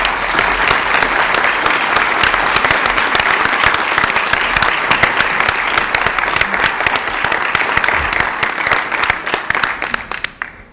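Audience applause at a school staff ceremony, a dense, steady wash of many hands clapping at full loudness for about ten seconds before tapering off at the end.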